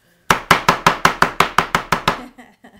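A knife chops fresh basil leaves on a cutting board in about ten quick, evenly spaced, sharp strikes, close and loud, then stops.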